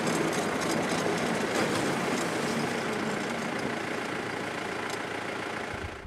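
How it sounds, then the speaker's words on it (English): A tractor engine runs steadily with its PTO engaged to slip a slip clutch, a continuous mechanical drone with a fairly even loudness that tapers slightly at the end, with no talk. "engage the PTO for a short burst, disengage, and then re-engage"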